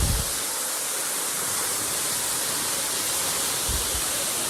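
Bonita Falls in Lytle Creek, California, pours as a loud, close waterfall, a dense continuous roar of crashing water that stays steady without pause and with no talking over it.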